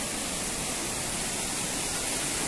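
A hidden waterfall in the hills near Madurai pours in a dense, continuous broadband rush, close and steady, with no voices over it.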